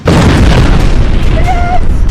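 A powerful explosion from a drone strike on Tel Aviv at 3 a.m., a loud, sustained boom that erupts almost at once and keeps rumbling heavily to the end with no talk over it.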